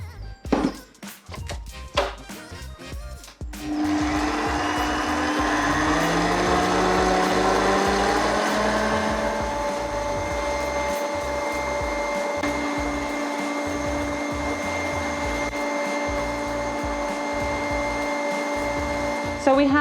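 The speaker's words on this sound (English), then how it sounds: "I'm just gonna put it on top of my stand mixer and leave it to whisk for like a good couple of minutes" A stand mixer whisks cheesecake batter, starting with a few clattering knocks and then settling into a loud, steady motor whine that holds with a faint pitch shift until the end.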